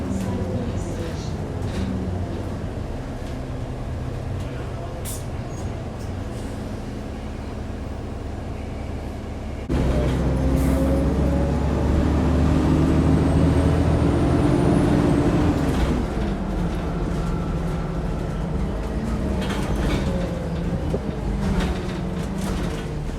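Arriva London Enviro 400 double-decker bus running on a diversion route, a steady engine drone and road rumble that grows louder and rougher midway, with faint passing traffic around it.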